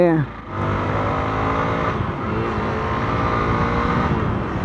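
A Hero Xpulse 200 4V BS6 2023 motorcycle being ridden, its engine a loud, steady, close drone that holds an even pitch throughout after a brief dip at the start.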